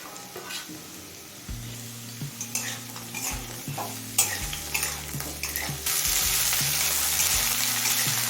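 Chopped capsicum hitting hot oil with whole garam masala in a pan for veg paneer dal, clattering stirs and scrapes that build into a loud, steady sizzle toward the end.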